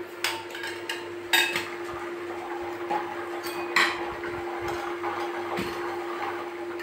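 A pot and utensils clink and clatter while tea is put on in a home kitchen, with sharp metallic knocks spread irregularly over a steady low hum, close by and fairly quiet.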